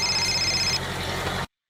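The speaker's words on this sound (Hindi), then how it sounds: "वही मेरे ससुरे का फोन।" A phone rings in a steady electronic tone for about a second and a half, then stops abruptly as the call from the father-in-law is answered.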